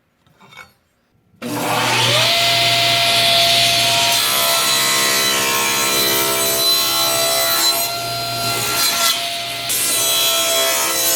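A hand saw cutting through reclaimed hardwood along a marked line, loud and close, a steady continuous rasp that starts abruptly after a brief quiet moment and carries on alone to the end.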